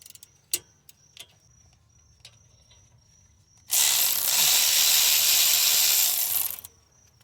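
A socket wrench ratchets on a Chevy Malibu wheel bolt during a broken wheel stud replacement. A few sharp isolated clicks come first, then a loud, close, steady burst of rapid ratcheting lasts about three seconds before it stops abruptly.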